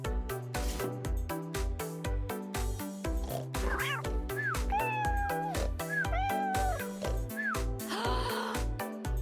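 A cartoon cat meows repeatedly in a Toca Boca mobile game, its short pitched mews rising over a steady, looping game music track.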